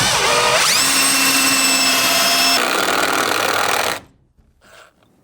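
A power drill drives a 3.5 inch screw into a 2x4 on edge, the motor spinning up with a rising whine, then a strained, loud grinding run that stops abruptly, followed by faint handling sounds.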